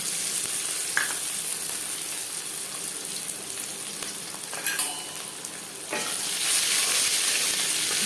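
Nigella seeds and garlic frying in oil for a taro-leaf dish with hilsa head, heard as a close, steady sizzle with scrapes of stirring; the hiss swells louder and brighter near the end.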